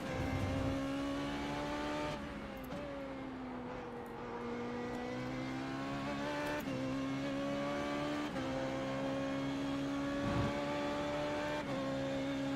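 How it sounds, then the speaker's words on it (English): Simulated race car engine in iRacing, a Formula 3.5 car at Spa Francorchamps, droning steadily with a sustained whine that sags and dips in pitch as it bogs down on the straights, loud and continuous. "I can hear the engine bogging down on the straights."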